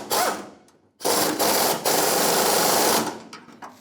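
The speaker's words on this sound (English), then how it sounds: "Let's get my air gun." A pneumatic air impact wrench runs on the fuel tank mounting bolts of a 1992-1996 Ford F-150, with a 15mm socket. Two loud rattling hammering bursts, the second long and sustained, are separated by a brief pause.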